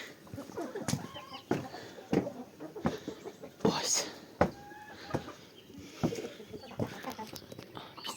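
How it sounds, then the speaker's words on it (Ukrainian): Chickens cluck close by in short irregular bursts, with soft rustling and faint movement between the calls. "Це мої кури вреднунчики"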